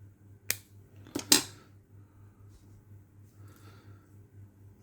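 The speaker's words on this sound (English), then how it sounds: "Our scissors, cut them." Scissors make a few sharp metallic snips through magnet wire close by, clustered near the start, over a steady low electrical hum.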